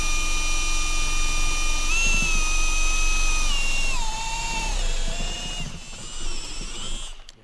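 A power drill whines steadily at high speed while boring holes, its pitch dropping in steps as the bit loads up and flexes, loud and close before winding down near the end.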